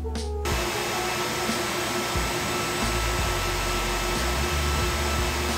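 Dust collector running steadily through ducted pipe at a woodworking jointer, a loud, constant broadband whoosh of rushing air with a low hum beneath, starting abruptly and holding even throughout.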